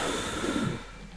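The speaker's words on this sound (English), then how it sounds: "I'm having a hell of a time clearing my throat right now." A man clears his throat and splutters in one short, close, rough burst that fades quickly, with no speech.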